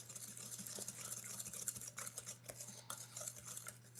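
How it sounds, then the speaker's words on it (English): A Danish dough whisk stirring two eggs and other wet ingredients for a caramel apple cake, soft rapid scraping and sloshing against the bowl, faint and close with an irregular rhythm. "Danish dough whisk to stir it up because it goes together that quick"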